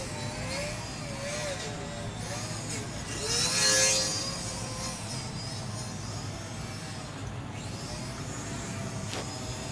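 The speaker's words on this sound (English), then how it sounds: "that's just me playing with the throttle, getting her to do some separate movements" An Ares Nano Micro Stick 75 RC plane's small electric motor whines faintly at a distance, its thin tone rising and falling as the throttle is worked up and down, with one brief louder swell.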